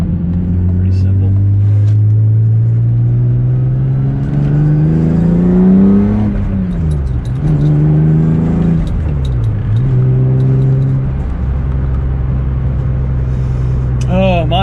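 A 700 hp Lexus IS300 pulls hard from inside the cabin, its loud engine drone rising in pitch through repeated gear pulls, dipping briefly at each shift before climbing again.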